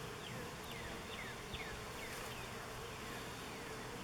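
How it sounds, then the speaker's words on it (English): A dense, steady hum of many honeybees buzzing together in a hive at close range, continuous and even, with no talking. "She's got a bunch of bees surrounding her."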